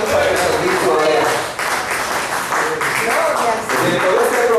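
A church congregation breaks into loud, sustained applause, with a voice or tonal sound mixed in over the clapping.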